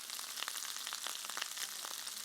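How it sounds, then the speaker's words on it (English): Grated garlic hits a hot pan for fried rice made with sausage, bacon and egg, giving a soft, steady sizzle with faint crackling pops, close by and quiet, with no talking. "I just grate it right into the pan."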